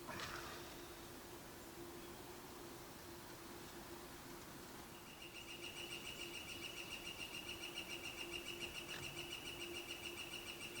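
Repeated high, thin bird calls in a steady rhythm rise over a constant hiss of background noise in Nova Scotia, starting partway through and continuing to the end.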